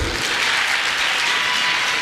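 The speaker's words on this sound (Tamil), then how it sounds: "இப்ப பெண்கள் நீங்க கைத்தட்டல் கொடுக்கணும்." An audience at a public speaking event in Tirunelveli claps steadily. The applause is dense and continuous, with nothing else heard over it.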